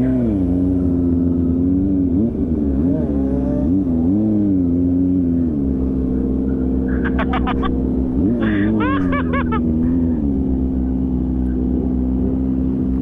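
A Kawasaki ZX motorcycle engine revs loud and close in a crowded street race setting, holding a steady roar with rising and falling pitch swings, while voices and shouts are heard over it.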